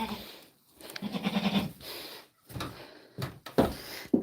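Goats bleat in short, separate calls on a farm near the woods, loud and close, with pauses between them and a brief knock like a door.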